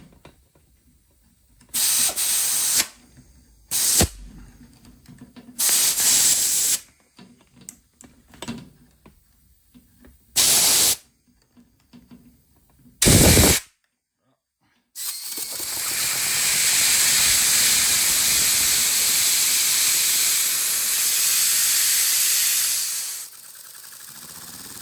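A steam rotary engine driving a 3D-printed serpentine-coil generator: short bursts of hissing steam start and stop several times, then a long, loud, steady hiss runs for about nine seconds before cutting off.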